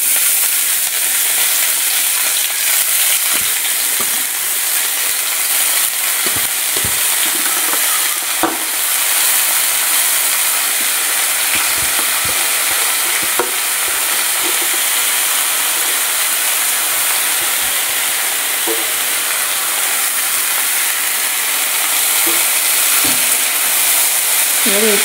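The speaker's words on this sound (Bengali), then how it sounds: "এবারে এটা এর মধ্যে ভাজা হবে" Chopped mixed leafy greens frying with garlic in a pan give a steady, close broadband sizzle that runs the whole time, with occasional scrapes and clicks of stirring and no speech.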